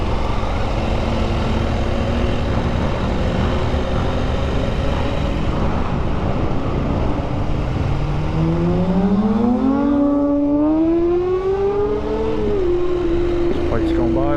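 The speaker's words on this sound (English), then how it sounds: "Bike's going by." A passing motorcycle on a woodland ride with a group of adventure bikes, its engine tone sweeping upward as it nears, over steady wind and engine roar from the rider's own KTM 890 Adventure R.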